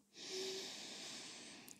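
A faint, breathy exhale from someone doing a Pilates exercise: one soft, steady airy breath lasting over a second, heard alone in a quiet room.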